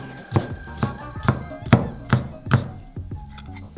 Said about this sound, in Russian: Нарезаем его на кубики.